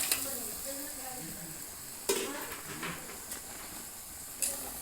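Boiled mutton head and trotters stirred into sizzling masala in a pan: a steady close sizzle broken by several sharp scraping clatters of the spoon at uneven intervals, with no talking.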